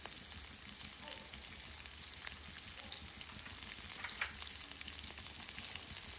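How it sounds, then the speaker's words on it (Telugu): Vegetable pieces such as cauliflower, carrot, beans and green peas tipped into onions frying in a pan for vegetable pulav, giving a steady, close, continuous sizzle with brief stirring clatter and no talk. "ఉల్లిపాయలు కొద్దిగా వేగిన తర్వాత మనం ముందుగా ఉంచుకున్న కాయగూర ముక్కలన్నిటిని వేసుకోవాలి."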